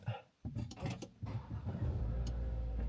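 A car engine is started, a short cranking burst followed by the motor catching and settling into a steady low idle that grows louder toward the end.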